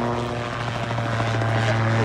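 A yellow two-seat tandem autogyro, German-designed in 2009, flies at the Farnborough air show, its propeller engine giving a steady, loud buzzing drone throughout a short stretch.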